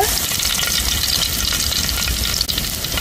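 Garlic frying in hot oil for a tempering in a vegetarian kadle manoli sukka, a loud, dense and continuous close-up sizzle with one brief dip near the end.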